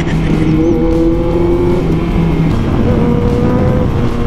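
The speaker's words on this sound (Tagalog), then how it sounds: "Oh, maganda rin ang tunog. Ayan na, nakaka-excite. Bagong exhaust." A Kawasaki ZX14R motorcycle with a new exhaust roars continuously at close range with a deep, rough exhaust note and slight shifts in pitch as it revs.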